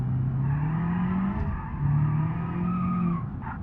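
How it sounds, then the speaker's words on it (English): Car tyres skidding and squealing in the BeamNG.drive racing game, a sustained, loud screech with shifting pitch over a steady engine drone, heard without any talking. "I can feel, or not feel even, just hear those tyres"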